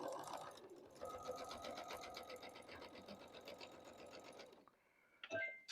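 Sewing machine stitching a quilt block for a strawberry farm quilt, a steady close rapid needle chatter that runs about four and a half seconds, then stops, followed by a brief clack near the end.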